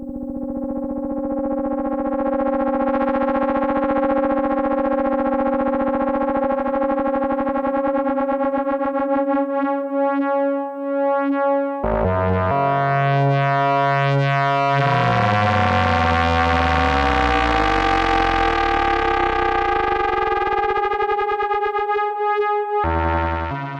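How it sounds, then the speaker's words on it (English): A Behringer 150 module's ring modulator produces a loud, sustained metallic synth tone, rich in harmonics. Midway it shifts into rougher, clangorous timbres with sweeping inharmonic partials, playing alone for over twenty seconds. "With audio rate signals, this typically leads to the well-known metallic and very rough sounds."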